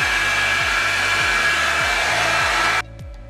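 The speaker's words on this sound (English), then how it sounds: "then I'm going to start blow drying my hair" A Revlon One-Step hair dryer blasts a loud, steady whoosh with a whine while drying hair, then cuts off abruptly near the end, leaving quiet.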